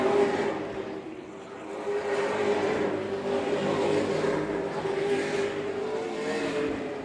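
Super late model stock cars racing around an oval track in a full-field event, a continuous loud engine roar that swells and fades as the pack passes, with no voices over it.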